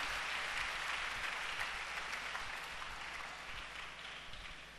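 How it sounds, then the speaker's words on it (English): A church congregation claps their hands together in steady, dense applause that fills the space, loud at first and easing slightly toward the end. "Clap your hand for Jesus."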